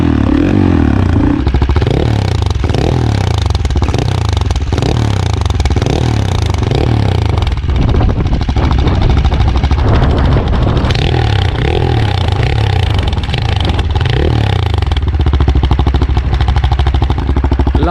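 A CCM Spitfire flat tracker motorcycle engine fires up and settles into a loud, steady idle with a pulsing throb and mechanical clatter, close by and without talk.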